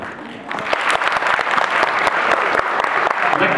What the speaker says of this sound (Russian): Дорогие друзья, аплодисменты как же.